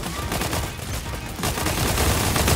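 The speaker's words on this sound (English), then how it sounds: "We got the Primal SMG now." Rapid automatic fire from the Primal SMG in a zombie shooter video game, a dense continuous burst of shots that grows louder toward the end, with no talking.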